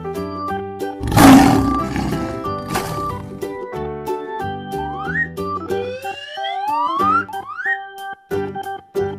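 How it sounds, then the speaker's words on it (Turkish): A lion roars loudly and alone near the start, a broad rough burst followed by a fainter second roar, set against a bed of steady music with rising whistle-like slides. "lion."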